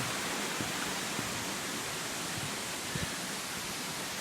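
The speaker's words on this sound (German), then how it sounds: "Ein Wasserfall." A waterfall near Bergen in the Chiemgau, Bavaria, on a cloudy, lightly rainy afternoon gives a steady broadband rushing roar, continuous and even, with no voices.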